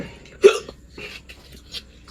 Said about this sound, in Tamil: பயங்கர ஃபாஸ்டா போயிட்டு இருக்கு. அதனால விக்குது